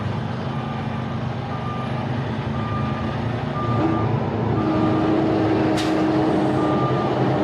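A delivery truck's reversing alarm beeps steadily in a yard while the rig maneuvers to park beside tankers, its engine rumbling loudly and continuously beneath the evenly spaced beeps, with a short hiss partway through.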